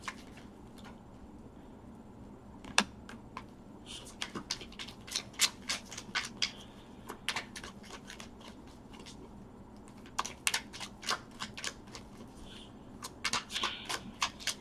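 A deck of tarot cards is shuffled close by, sharp riffling flicks and soft slides arriving in irregular bursts with short pauses between them, quiet overall and free of talk.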